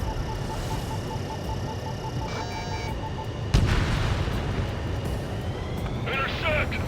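Anti-aircraft gunfire and explosions in the flight combat game Ace Combat 7 rumble under steady aircraft engine drone, with a sharp heavy boom midway and a voice speaking near the end.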